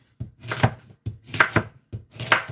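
Produce being cut into small pieces for a slow juicer, knife strikes landing in three quick bursts of chops on a board, close and fairly loud with short pauses between and no talking.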